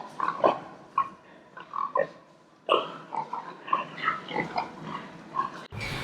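Genome-edited pigs in a pen grunt and squeal repeatedly, several animals close by making short, irregular bursts of snorts and oinks.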